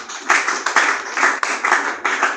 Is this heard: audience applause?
yes